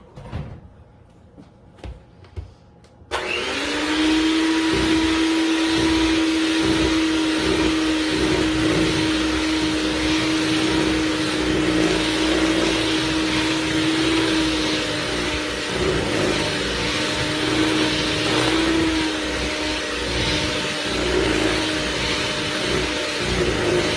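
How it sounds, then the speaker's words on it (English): Electric hand mixer beating lemon bundt cake batter after milk is added, switching on after a few quiet seconds and then running as a loud, steady whir for the rest, with no talk. "So I'll add the milk and we will mix it."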